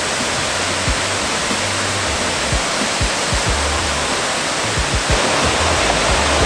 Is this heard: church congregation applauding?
no